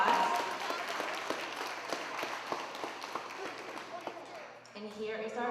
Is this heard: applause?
yes